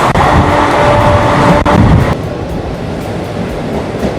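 An express train running from Santragachi to Digha gives a loud, continuous rumble and rush of wheels and wind that fills the whole stretch, dropping slightly in intensity partway through.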